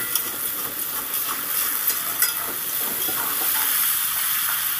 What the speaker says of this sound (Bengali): এবার আমি পেঁয়াজটা আর কুঁদরিগুলোকে লাল লাল করে ভেজে নেব।